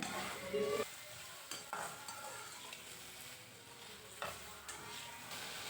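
Okra sizzles and crackles steadily while being stir-fried in a pan for a Tamil vendakkai kuzhambu, with occasional louder scraping stirs close by and no talking.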